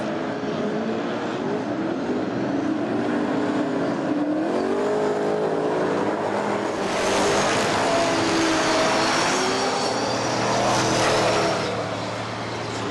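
Speedway race cars roar around a dirt track during a six-lap heat at the Plews Memorial, engines droning loudly and continuously with rising and falling pitch as cars pass, no voices.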